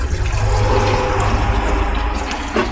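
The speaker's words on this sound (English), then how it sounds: "make sure that the water's coming down our little sluice correctly" Water rushes steadily down a small gold prospecting sluice fed through a screen and pipe, a continuous close splashing flow with no pauses.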